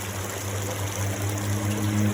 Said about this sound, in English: Then you're going to fill this white bottle right back up to the top.